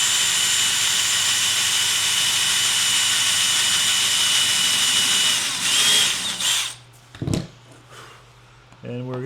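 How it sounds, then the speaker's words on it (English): A power drill bores a hole in oak during a rustic reclaimed-wood coffee table build, whining loud and continuously for about six seconds before winding down, followed by a few short bursts and handling knocks. "Okay, we'll drill a hole in that."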